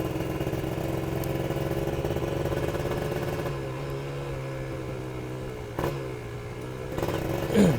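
Kawasaki Ninja two-stroke motorcycle engine turning over steadily with light throttle, a continuous mid-pitched drone that dips and settles, then a few small blips near the end.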